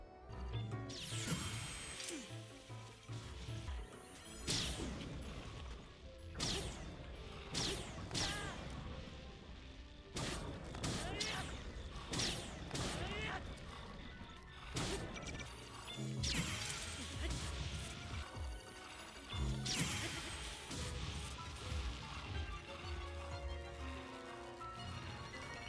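Weapons smashing and breaking during combat in the video game Zelda: Breath of the Wild, a dense run of loud crashes, whacks and swooshes repeating every few seconds over game music and effects.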